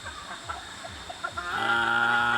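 Chickens clucking in short bursts, then a louder, sustained squawking chorus from several birds close by.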